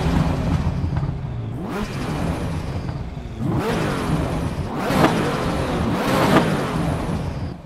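Ferrari F40 engine in the Assetto Corsa EVO racing game, revving up and down in repeated surges as the car is driven around a parking lot, loud and close with a whirring mechanical tone.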